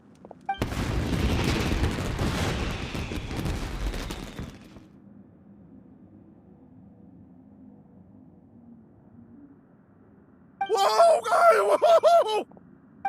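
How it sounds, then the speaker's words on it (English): Fireworks burst in the video game Genshin Impact, a loud crackling, booming barrage lasting a few seconds, followed by a quiet low hum and then a short burst of voices. "Yoimiya, this is turning into a bit of a fireworks display."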